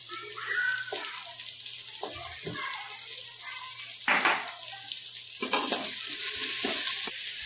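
Finely chopped carrots and tomatoes sizzle steadily in a pan for mutar pulav, with a few louder scraping stirs breaking through the continuous frying hiss; no one talks.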